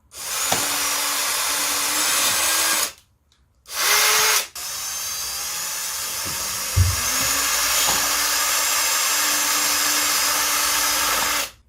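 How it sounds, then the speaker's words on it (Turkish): An electric drill bores holes in plastic parts for a pedal car under repair, a loud close whine that runs steadily, breaks off briefly and starts again, with a small clunk partway through. "Şimdi matkap yardımıyla da plastiğimizdeki deliklerimizi açıyoruz."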